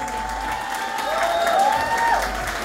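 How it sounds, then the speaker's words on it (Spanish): An audience at a Cuban music anniversary party claps together in steady, fairly close applause, with a faint whistling tone and some crowd voices mixed in. "los quiero que le brinden un fuerte aplauso a la cuenta de tres"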